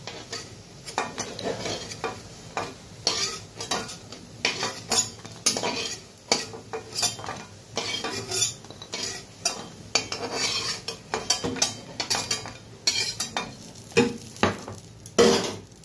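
Fried squash fritters are lifted out of a hot oil pan with utensils, giving repeated metallic scrapes and clinks over a steady sizzle, fairly close and continuous with no talk.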